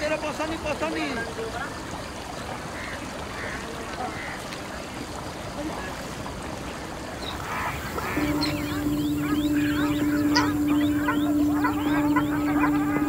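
Water birds on Chilika lake in India, near the Mangalajodi marshes, calling in a scattered chorus over constant outdoor ambience, with a steady tonal drone entering partway through; no clear speech.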